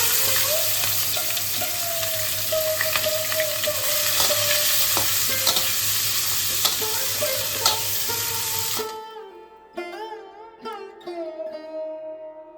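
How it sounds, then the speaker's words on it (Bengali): Bay leaf and dried chilli sizzle in hot oil as a tempering, a loud steady frying hiss with stirring, which cuts off sharply near the end and leaves only faint sounds. "তেজপাতা, শুকনো লঙ্কা ফোড়নে দিয়ে দিলাম।"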